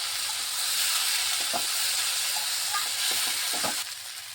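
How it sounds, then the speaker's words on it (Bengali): Eggplant and pumpkin peel fry in oil in a pan, giving a steady, fairly loud sizzling hiss with a few soft stirring clicks, and the sizzle eases slightly near the end. "বেগুনটা দিয়ে আর একটু ভাজা ভাজা করে নিচ্ছি"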